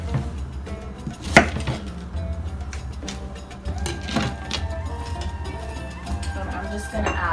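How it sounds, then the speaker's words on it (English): An onion being chopped on a board for Middle Eastern kafta, giving a few sharp knife strikes over steady kitchen background noise, with a person talking nearby. "Cut this onion up, and I'm going to incorporate it little by little."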